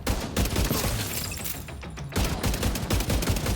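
Rapid gunfire from the Merciless exotic rifle in a first-person shooter video game, dense bursts of loud shots with a brief lull near the middle before another sustained volley.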